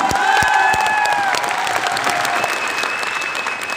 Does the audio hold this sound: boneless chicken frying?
no